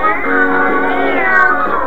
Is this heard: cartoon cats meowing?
yes